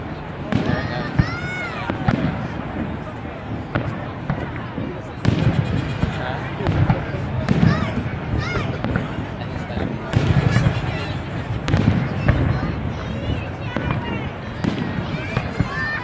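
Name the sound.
fireworks exploding over the tower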